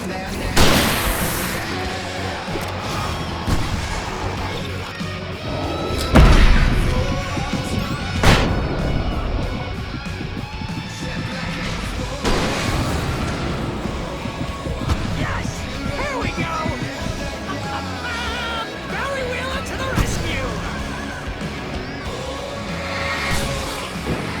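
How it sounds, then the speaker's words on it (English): Video game fireworks bursting in a string of booms and crashes, loud and dense, layered over continuous game music and effects with no pauses. "I can set off more of the fireworks from here and help you out!"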